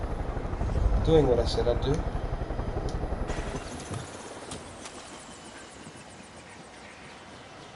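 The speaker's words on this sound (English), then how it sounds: "It would be way easier if I just bring a helicopter over and land." A helicopter in the video game Far Cry 5 flies in and sets down, its steady rotor thrum loud at first and then dropping away to a quieter idle while someone talks over it.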